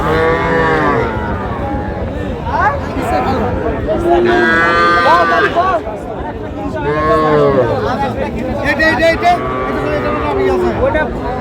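Sahiwal and local bulls moo and low repeatedly, loud and close, over a busy crowd murmur of people talking at a livestock market in Comilla.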